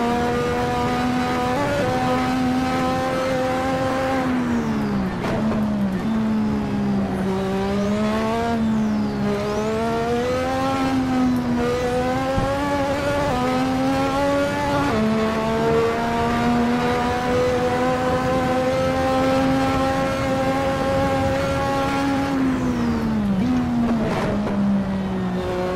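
Lotus 98T Formula One race car engine in Assetto Corsa, a loud continuous high-revving whine climbing and dropping through gear changes as it brakes and accelerates around a circuit, steady throughout with no talk.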